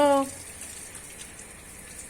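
Water runs steadily from a tap pipe fitted with a bottle sprayer in a village, a continuous hiss after a brief voice at the start.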